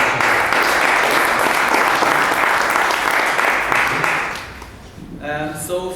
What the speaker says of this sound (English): So please a big applause for Reuven